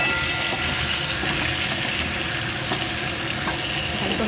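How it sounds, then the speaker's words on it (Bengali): Potatoes frying in a pan give a loud, continuous close sizzle that stays even throughout, with no talking. "আলুটা ভাজা হচ্ছে, এদিকে মশলা করছি।"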